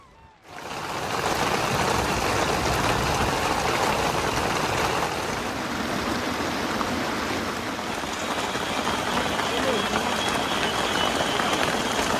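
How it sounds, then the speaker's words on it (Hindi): Heavy rain, with hail mixed in, pours down in the Dhauladhar mountains on the trek to Kareri Lake. After a brief quiet start it becomes a dense, steady hiss of drops striking surfaces, loud and unbroken to the end. "कुछ ही पलों में आसमान पर बादल छा जाते हैं और तेज बारिश के साथ ओले गिरने लगते हैं।"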